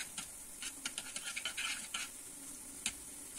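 Onion frying in hot oil in a pan, quiet sizzling with scattered scraping stir strokes and light clicks, close and faint.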